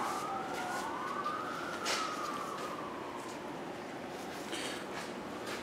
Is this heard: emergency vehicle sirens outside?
yes